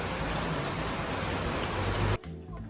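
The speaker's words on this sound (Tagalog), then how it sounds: "Ang lakas ng ulan." Heavy rain pours in a dense, steady hiss that fills the space for about two seconds before cutting off sharply into quieter background noise.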